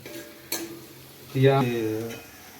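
Onions sautéing and being stirred in a pan for Hyderabadi dum biryani, a soft sizzle under a sharp utensil knock, then louder stirring scrapes near the end, with a voice briefly heard.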